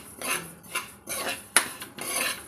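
Flax seeds being dry-roasted in a pan on a stove on low flame, with a spoon or spatula scraping and clinking against the metal pan in irregular strokes, close and clear.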